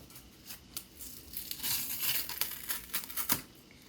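Close, quiet tearing of paper packaging from an Apple Pencil, with crinkly rips and a few sharper snaps over a few seconds.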